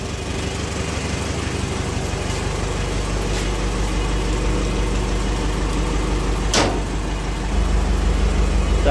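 Old MWM or Perkins tractor diesel engine idling steadily nearby, a continuous low rumble with a brief sharp knock midway and a slight rise in loudness near the end.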